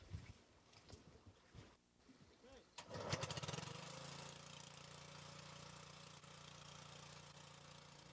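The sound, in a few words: small Briggs & Stratton engine powering water pumps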